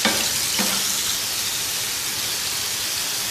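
Onion paste frying for Punjabi-style tawa chicken, a steady close hiss and sizzle throughout, with a brief clatter of a stirring utensil near the start.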